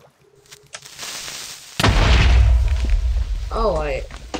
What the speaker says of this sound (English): Oh, don't you explode on my property.